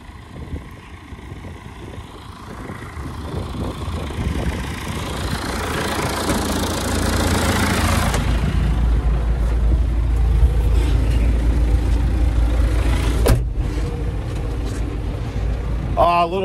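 A tractor engine runs steadily while planting sorghum, a continuous low drone with rattling and dusty field noise through open windows; someone talks over it throughout.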